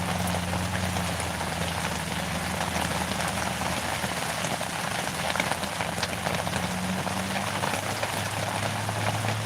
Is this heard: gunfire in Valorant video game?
no